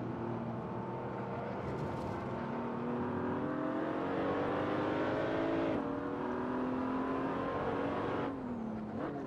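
A BMW Z4 race car in a racing video game at the Nürburgring accelerates hard, its engine note climbing through the gears with short drops at each shift, loud and continuous with no talking.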